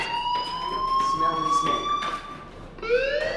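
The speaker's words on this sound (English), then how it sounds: "Hey, do you hear that fire alarm? That means you should be outside." A school fire alarm in the video game Life Is Strange rings as a steady high electronic tone, with a rising siren-like sweep near the end, while voices talk over it.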